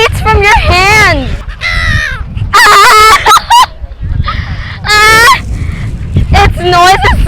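Seagulls at Bangpu being hand-fed call loudly and repeatedly, harsh wavering squawks and cries coming in close bursts with brief gaps, several birds overlapping at times amid low background noise.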